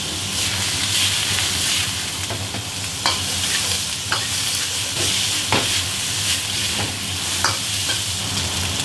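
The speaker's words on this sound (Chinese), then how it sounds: "炒香之后加入牛肉， 翻炒大约3-5分钟吧。" Beef stir-frying in a wok for braised beef brisket: a constant loud sizzle broken by sharp scrapes and clatters of the spatula at irregular intervals, with no talking.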